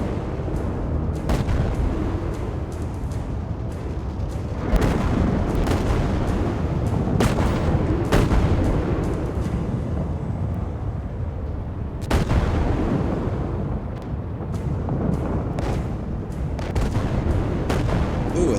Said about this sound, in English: Finally getting a good volley.